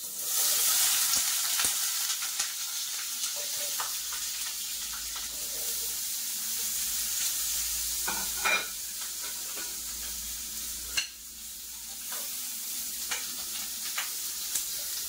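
Potatoes frying in hot cooking oil, a continuous close sizzle and hiss with occasional stirring scrapes and clatters punctuating it.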